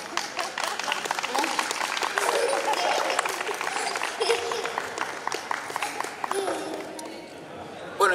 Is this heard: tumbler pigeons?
no